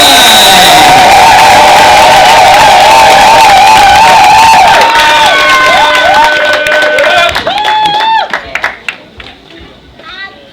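A loud crowd at a live concert cheers and shouts, with children's voices prominent, then the noise gradually fades toward scattered calls and quieter chatter.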